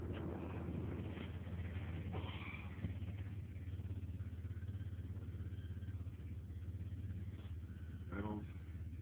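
A 1994 Mitsubishi 3000GT with a full stainless steel exhaust from the headers back and a failing oil pump idles with a steady, faint low rumble, with a few brief clatters over it.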